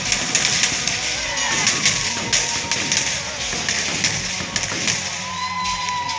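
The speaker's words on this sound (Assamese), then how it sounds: "এতিয়ালৈ বোমা ফুটি আছে, দেখিছেনে কিমান বোমা ফুটিছে।" Firecrackers burst during Holi festivities in Assam, scattered sharp pops and dull thuds repeating irregularly over a steady background noise.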